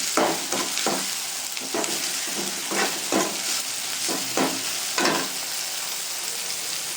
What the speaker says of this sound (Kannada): ಆ್ಯಡ್ ಮಾಡಿ ಹೈ ಫ್ಲೇಮಲ್ಲಿ ನಾವು ಅದನ್ನು ನೀಟಾಗಿ ಫ್ರೈ ಮಾಡ್ಕೋಬೇಕು.